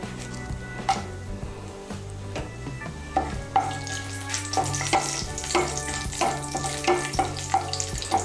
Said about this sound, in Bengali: এর মধ্যে আমি দিয়ে দিচ্ছি গোটা গরম মশলা ফোড়ন